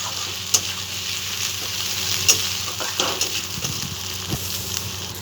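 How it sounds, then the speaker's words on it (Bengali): Ground spice paste of garlic and ginger frying in oil for a snail curry, stirred with a spatula. There is a continuous close sizzle with several sharp scraping and clinking strokes against the pan at irregular intervals, and no speech. "এখানে ভালো করে একটু নেড়ে তেল ছেড়ে বাটা মশলারও মশলাটা এখানে দিয়ে নিই"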